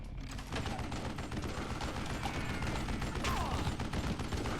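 Gunfire in the Call of Juarez Gunslinger video game: dense, continuous rapid shooting with clattering mechanical sounds over a steady loud din, close and unbroken, with no talking.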